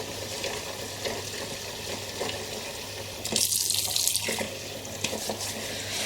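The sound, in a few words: tap water running into a sink to soak an item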